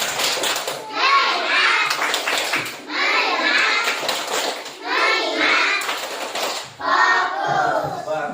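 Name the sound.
class doing the 'tepuk fokus' clapping routine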